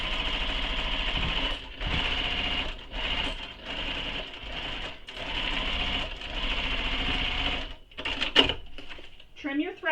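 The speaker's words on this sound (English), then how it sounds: "I'm sewing with my foam right side up" A sewing machine stitches a foam-lined fabric bag with the foam side up, whirring steadily and close in several runs broken by brief stops, with a few handling clunks and a short vocal sound near the end.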